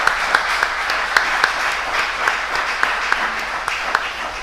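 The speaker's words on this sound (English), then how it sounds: "And I'd like to ask for a round of applause." Audience applause at the close of a panel discussion on hydrogen production, a steady wash of many hands clapping with a few sharper claps standing out, sustained throughout.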